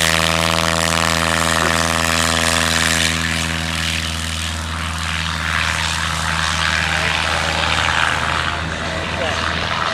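A small propeller airplane on a landing attempt at a short-field competition in New Holstein, 2015, drones loudly and steadily close by, its engine hum holding a strong, even pitch throughout.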